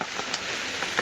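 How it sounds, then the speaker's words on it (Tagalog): Heavy rain falls steadily in a dense, even wash of noise, with a few sharper drop impacts near the end and no voices. "at sobrang lakas pa ng ulan."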